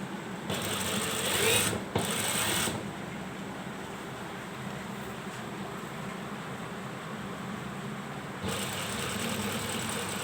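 Sewing machine stitching the belt of a ladies' shalwar, a steady close motor hum with needle chatter, louder in the first couple of seconds and again near the end.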